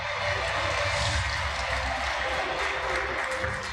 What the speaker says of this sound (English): Ladies and gentlemen, a huge round of applause for the recipient of the CMO Customer Experience Award right there